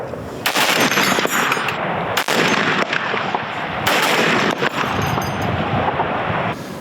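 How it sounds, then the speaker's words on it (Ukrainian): Sustained bursts of rapid automatic gunfire from a remote-controlled machine gun turret, loud and close, continuing almost without pause with brief gaps between long volleys. "Постріл."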